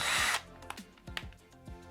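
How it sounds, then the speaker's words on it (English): A power drill drilling into wood whines briefly at the start, then stops as the bit is backed out, followed by a few light knocks and clicks of the tool. "we're gonna back out the drill bit"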